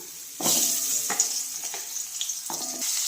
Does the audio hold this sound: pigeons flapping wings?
no